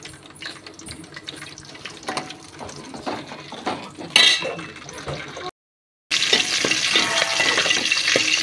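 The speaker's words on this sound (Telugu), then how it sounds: "పచ్చిమిరపకాయలు వేసుకుంటాను ఇప్పుడు." Green chillies hit hot oil in a pan with a busy crackling sizzle and stirring scrapes, a brief gap, then a louder steady frying hiss close up.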